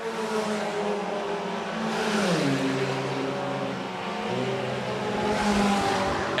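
Stock cars race down the front stretch of Shelby County Speedway with loud, droning engines. The roar swells as the cars pass close by, and several overlapping motors rise and fall for several seconds with no talk.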